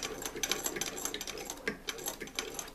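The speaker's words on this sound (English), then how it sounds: "you can let go and just let the machine feed the fabric on through" Hand-driven sewing machine stitching throw-pillow fabric, a steady rapid ticking of the needle and mechanism running close and continuous, with no voices.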